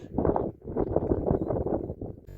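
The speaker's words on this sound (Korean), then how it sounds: "바람 소리가 강합니다" Strong wind buffets the microphone in heavy, gusting rumbles on the Munjangdae peak of Songnisan, loud and continuous throughout.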